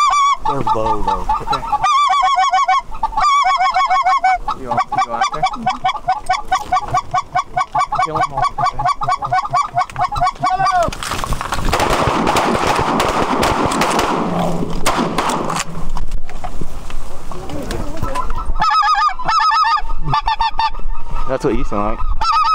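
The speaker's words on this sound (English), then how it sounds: "More geese coming." A flock of snow geese honks loudly and repeatedly in a noisy chorus, with a gusty rushing burst in the middle before the calls resume.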